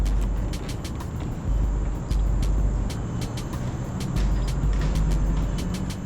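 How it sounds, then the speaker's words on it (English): Continuous rumble of city road traffic in Kuala Lumpur carrying into an urban forest, with cars and heavier vehicles passing at a distance and repeated sharp high ticks or chirps above the wash. "I hear so much traffic"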